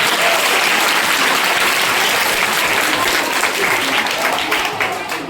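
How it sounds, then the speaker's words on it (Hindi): A group of children at a school camp claps loudly and continuously for several seconds, the dense applause easing slightly toward the end. "सबके लिए ताली, सब ब्रश करते हैं"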